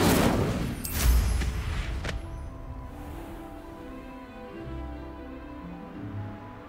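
An Incendio fire spell bursts out in Hogwarts Legacy, a loud whooshing blast with a couple of sharp cracks in the first two seconds, then fading into a quieter hum and ambient tones.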